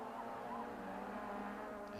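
Touring cars race at Kyalami circuit in the 1994 South African Touring Car Championship, several cars together. Their engines give a steady, dense roar at moderate distance, with a continuous drone and no clear pass-by peak.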